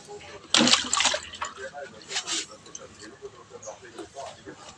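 A live mud crab or fish dropped into a shallow container of water splashes sharply at first, then sloshes and flicks in short irregular bursts, close and fairly quiet.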